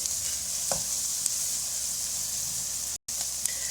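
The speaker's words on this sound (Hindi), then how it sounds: "लहसुन अदरक हो चुका है फ्राई।" Steady sizzling of garlic and ginger frying in a hot pan, with a couple of brief clinks and a split-second gap in the sound near the end.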